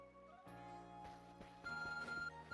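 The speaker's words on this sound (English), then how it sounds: "Your arc phone's beeping." An arc phone beeping in a Pokémon video game, a tonal electronic ringtone of sustained melodic notes that grows louder partway through, alone and fairly quiet.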